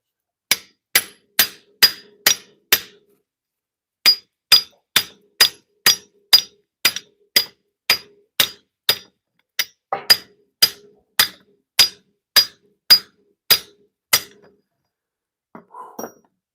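A 5-pound sledgehammer strikes metal in a sharp, evenly spaced series of roughly thirty ringing blows, loud and close, with one brief pause early on and a few softer knocks at the end.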